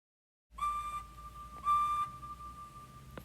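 A steam engine whistle sounds in two clear, sustained toots, the second slightly longer, loud and close with no other sound around them.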